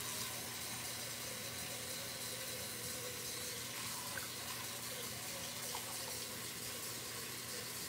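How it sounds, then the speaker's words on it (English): Tap water runs steadily into a cooking pot in a home kitchen, a constant faint rushing over a low hum, with no talking. "I'm putting some water in here."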